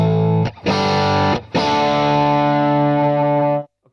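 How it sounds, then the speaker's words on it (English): An electric guitar through an AMP1 Iridium Edition amp, driven hard into power amp breakup with a boost engaged, plays three loud distorted chords. Each rings out and is cut by a brief gap, and the last sustains for about two seconds before stopping. "what I can hear is definitely the power amp break up kind of thing because it's driven hard"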